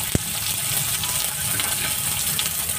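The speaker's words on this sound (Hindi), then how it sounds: "और प्याज को थोड़ा सा भून लेते हैं" Chopped onions fry with chilies in hot oil for homemade pasta, giving a close, steady, dense sizzle that holds evenly throughout, with one sharp tap near the start.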